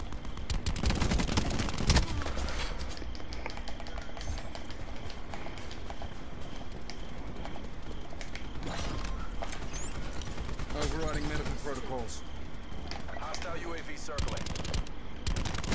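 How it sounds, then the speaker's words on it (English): Gunfire in Call of Duty Black Ops 4, including shots from a teammate, rattling as rapid automatic bursts throughout, layered over busy game effects and someone talking over it. "Stop shooting me, teammate."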